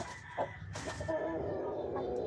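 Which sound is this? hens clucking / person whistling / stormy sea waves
hens clucking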